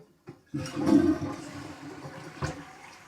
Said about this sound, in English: when you flush the toilet